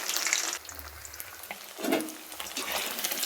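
Paneer and gobi pieces frying in oil in a pan until golden brown, a soft close sizzle with a few stirring scrapes, quiet and without talk.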